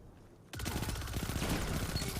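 The Manticore SMG in a video game fires a sudden, loud, sustained burst of rapid automatic shots that begins abruptly after a quiet moment and continues dense and close to the end.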